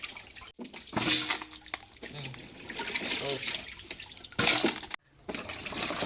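Sweet potatoes being rinsed by hand in water to wash off soil, with splashing and trickling in bursts under ongoing talk in a close, busy kitchen setting.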